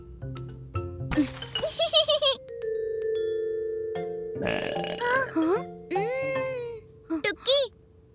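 A cartoon-style burp sounds between bursts of animated, high-pitched character voices, with a long sustained gurgling belch tone in the middle and more chatter around it.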